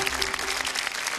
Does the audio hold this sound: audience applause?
yes